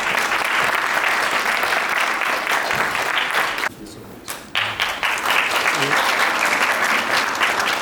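Sustained applause from a conference audience at an international academic gathering, loud and dense with a brief dip near the middle before resuming strongly.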